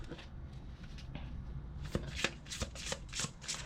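Close shuffling of a tarot deck: soft sliding at first, then a run of crisp card riffles and slaps growing louder toward the end, with no voices.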